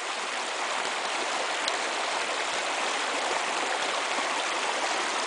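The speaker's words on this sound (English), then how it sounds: "you can see the water actually bubbling there" Water bubbles and rushes steadily from a pump outlet in a brook trout headwater stream, a constant frothy churning with no breaks and no voices.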